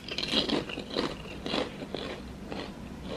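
Crisp crunching bites and chewing repeat in a loose rhythm, close and fairly quiet, with no talking.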